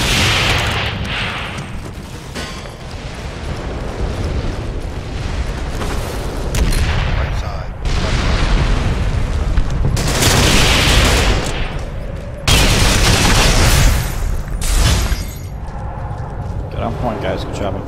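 Grenades go off in Ghost Recon Online on the Chertanovo LZ map amid gunfire, with several heavy booming blasts and surges of shooting over sustained battle noise, while players talk throughout.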